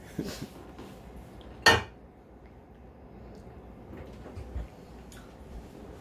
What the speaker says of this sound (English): My pudding pot, a nice little blue Pyrex dish.